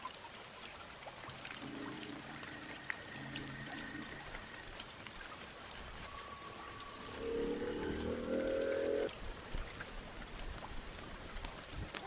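Steady rain pattering and dripping on surfaces during a motorcycle trip, moderately faint and continuous, with a brief louder rushing swell near the end.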